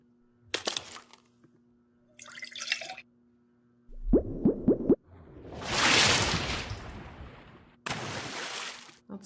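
A stock water-splash sound effect auditioned during video editing: a few quick plops and drips, then a full, loud splashing burst that swells and fades, followed by another short splash.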